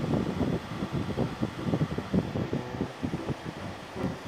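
Air conditioning fan in a Hyundai Staria cabin running at full blast, a steady low whooshing hum with faint fluttering, no voices.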